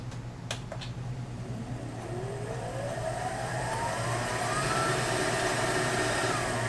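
An Aurora MS-700 sewing machine running for bobbin winding, a faint steady motor whir that gradually builds, with a low hum underneath and no talk.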